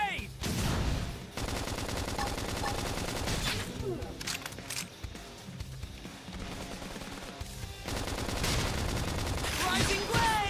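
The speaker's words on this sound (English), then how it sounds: "Flame grenade!" A flame grenade attack amid combat in Xenoblade Chronicles X on Switch, heard as dense, loud bursts of explosive, crackling battle effects that rumble on throughout with short dips and swells.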